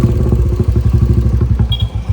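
A motorcycle engine chugs close by in a fast, regular putt-putt rhythm on a wet road after rain has eased. The loud pulsing beat is heard alone, without talk.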